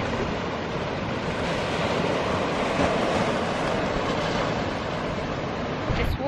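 Steady, dense rushing roar of a waterfall on the Cornish coast near Pentewan, continuous and fairly close, with no voices over it.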